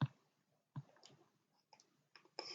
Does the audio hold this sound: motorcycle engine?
no